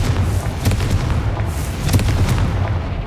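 A Confringo blasting spell detonates in Hogwarts Legacy, deep rumbling booms with sharp crackling bursts, loud and close, rolling on for a few seconds.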